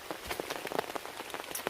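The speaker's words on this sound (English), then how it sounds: "it's keeping the rain off, but it's going to be raining for the next couple of hours and full on as well" Heavy storm rain drumming on a wild-camping tent, a close, busy patter of individual drops tapping the fabric in an irregular, continuous rhythm.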